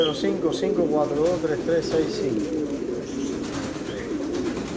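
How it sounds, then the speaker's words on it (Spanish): A gorguero pigeon coos in low, rolling, repeated murmurs close by, continuing steadily over several seconds with soft background noise. "tengo este palomo gorguero. Bien bonito este gorguero"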